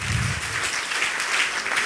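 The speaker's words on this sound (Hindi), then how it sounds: "महामहिम श्री वकील सर के लिए एक जोरदार ताली" A short burst of loud, dense applause from an audience honoring a guest at a gathering of government teachers, steady clapping throughout.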